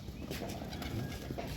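A pigeon on a rooftop garden pigeon farm coos softly in a brief burst, mixed with a steady bed of outdoor noise.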